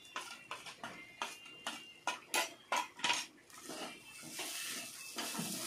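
A spoon scrapes and clinks against a pan as chili powder, turmeric and garam masala are stirred into vegetables, a series of sharp close taps giving way to softer continuous scraping, no voices.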